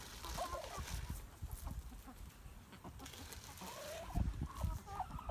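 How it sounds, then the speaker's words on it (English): Chickens clucking on a garden plot, soft and slightly distant, with scattered bursts of clucks and calls over an outdoor background. "Got to make sure that the chickens are already keen."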